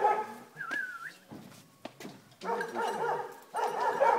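Puppies whimper and yelp in high, wavering cries, broken by a few sharp barks, close by and fairly quiet, coming in bursts with short pauses between.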